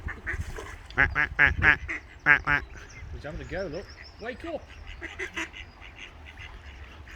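A duck quacks repeatedly beside a pond, loud nasal calls in quick bursts close by, mixed with people chatting and calling out.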